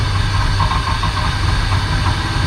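A three-phase electric motor wired to single phase and driven by a PWM controller runs with a loud, steady, rough drone and an uneven hum, under no talk.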